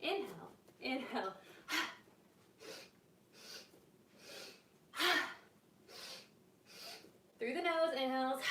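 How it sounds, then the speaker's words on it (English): During a yoga flow, a person takes breaths in through the nose and pushes them forcefully out through the mouth, giving a series of close, breathy gusts at an uneven pace, with short spoken remarks near the end. "Through the nose, inhales, forceful exhale through the mouth."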